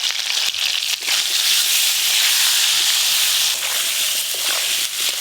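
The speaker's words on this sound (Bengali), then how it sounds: "এবার কেটে ধুয়ে রাখা আলুগুলো একই তেলে ভেজে নেব" Washed, cut potatoes with salt and turmeric frying in hot oil give a loud, steady close-up hiss and sizzle throughout, with no voices.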